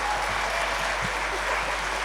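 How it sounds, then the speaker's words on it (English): A poetry event audience gives one big collective round of applause, dense steady clapping filling the room throughout with no voices standing out. "one big collective round of applause"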